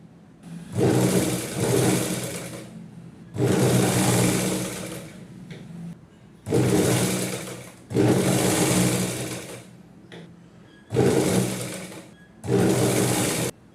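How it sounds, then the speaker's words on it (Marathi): A sewing machine stitches a thin-fabric nine-yard Rajlaxmi saree, running in about six loud, close bursts of steady whirring separated by short pauses, with no talking. "आता मी इथे नाळी शिवून घेते पट्टी कट करून घ्यायची आहे"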